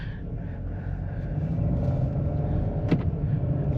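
Steady, low engine rumble from a 2025 Ford Bronco Sport Big Bend with a 1.5L engine, heard from inside the cabin while driving, a continuous moderate drone with a brief small knock near the end.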